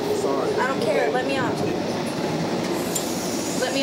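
Steady loud rumble and rattle fill the interior of a moving passenger train, continuous throughout, while people speak in tense, raised voices over the noise.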